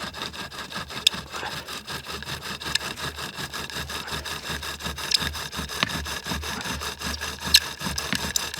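A bow drill spindle, brand new, works against a fire board to make fire, sawing back and forth in a steady rhythmic rasp of wood on wood, close and moderately loud.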